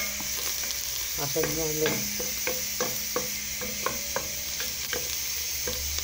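Onion and garlic frying in Egyptian country ghee, a constant close sizzle with regular clinks and scrapes from stirring, while a voice speaks briefly over it.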